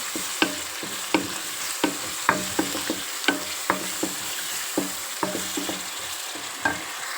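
Raw prawns fry in a pan for a chana dal curry, a soft sizzle running beneath regular sharp scrapes and clicks of a spoon stirring, about two per second.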